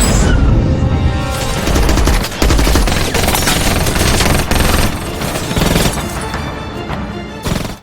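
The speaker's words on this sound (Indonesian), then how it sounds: "Kemudian, mereka saling tembak-menembak." A sustained, heavy gunfight from the film The Berlin File: loud bursts of automatic fire and single shots overlap with booms and crashes, close and relentless for several seconds, with no voices.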